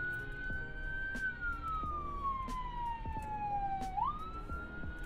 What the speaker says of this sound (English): this damn ambulance, man.